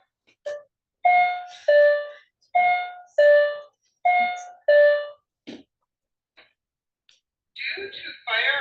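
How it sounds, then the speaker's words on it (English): Fire alarm bells in a building under maintenance ring in a steady run of about six loud, evenly spaced electronic chime tones, then go quiet before a voice starts speaking. "Due to fire alarm maintenance, fire bells will be ringing intermittently in the Comac building."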